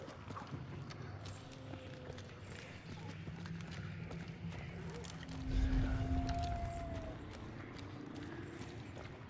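Footsteps in a video game patter and clop continuously, with a louder, heavier stretch of rumbling steps midway, set against a busy ambient background with faint speech.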